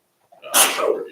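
A single sharp sneeze bursts out in a meeting room during a zoning board of adjustment session, loud and close after a brief quiet intake.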